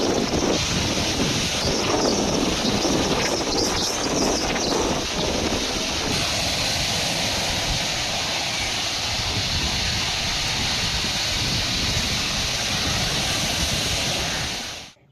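Rough sea and strong wind at Rameswaram during Cyclone Ditwah, a loud, continuous roar of wind buffeting the microphone over churning surf that holds steady for the whole stretch before cutting off at the end.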